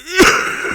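A man gives one short, rough throat clearing, a stifled cough cut off almost as it starts, close and fairly loud, followed by a brief breathy tail.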